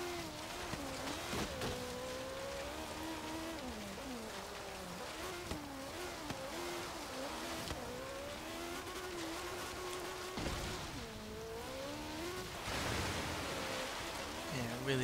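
A lightweight 2014 BAC Mono in Forza Horizon 3 churns through river water offroad, its engine droning steadily with shifting pitch under a constant wash of splashing spray, close and dense throughout.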